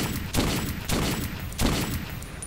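Gunfire in the video game Metro 2033, three heavy booming shot bursts spaced roughly half a second to a second apart, each followed by a rumbling tail, loud and without speech.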